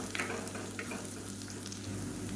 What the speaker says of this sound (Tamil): இது வந்து எண்ணெயில் வதக்கி விட்டுக்கலாம்